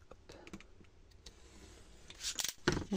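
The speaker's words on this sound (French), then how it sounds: "on rouvre nos pattes de 1 cm et on va venir couper ici" Scissors snipping paper tabs while assembling a small paper craft pocket: faint, sparse clicks and crisp cuts close by, growing louder and denser toward the end, with no talk.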